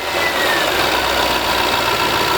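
A Land Rover or Jaguar 3.0L engine idles steadily with a dense, continuous mechanical hum and light knocking texture, close and loud, with no talk.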